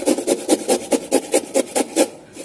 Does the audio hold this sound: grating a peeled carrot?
yes